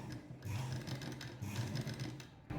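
A sewing machine stitches piping onto blouse fabric, running in a steady, close mechanical whir that briefly pauses and restarts, with no voices.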